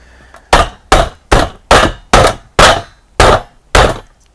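A two-sided soft-faced mallet with a metal handle strikes metal eight times in a steady, evenly spaced rhythm, each blow a loud, sharp, close thud with a short ring-off and near-silence between hits.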